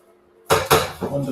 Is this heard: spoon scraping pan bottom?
yes